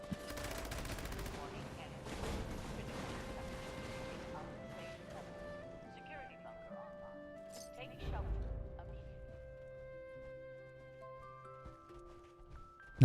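Gunfire in the video game Fallout 76 comes as a burst of quick shots early on, then sparser, fainter cracks under game music and a talking player.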